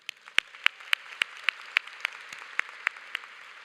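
A commencement audience applauds the Glee Club: one set of hands claps close and loud in an even, steady beat about three times a second over a soft, distant wash of clapping.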